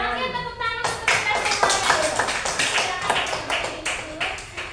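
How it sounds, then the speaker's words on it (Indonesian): A classroom group claps together in a lively burst, individual hand claps sharply audible and close, with a voice speaking briefly before the clapping begins. "tepuk tangan untuk kita"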